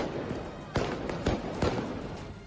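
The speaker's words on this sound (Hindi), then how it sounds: "फ्रांस के समर्थक आतिशबाजी करते नजर आए" Three sharp bangs from fireworks set off by football fans at a distance, spaced under a steady background crowd murmur.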